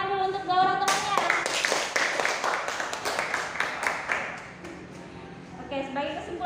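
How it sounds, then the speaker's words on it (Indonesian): Schoolchildren in an Indonesian classroom clap for two classmates after a math lesson: a burst of dense, fairly close clapping that runs several seconds and then fades, with a teacher's voice speaking at the start and end. "Tepuk tangan dulu untuk 2 orang temannya."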